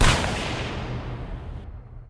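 A single loud gunshot-like blast with a long rumbling decay that fades over about two seconds.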